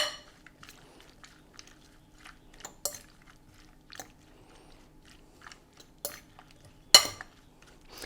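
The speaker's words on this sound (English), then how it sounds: "just take a fork and mix it all together" Fork stirring bruschetta ingredients in a bowl: sparse, quiet clinks and scrapes of metal against the dish at irregular intervals, with a few sharper taps standing out over near silence.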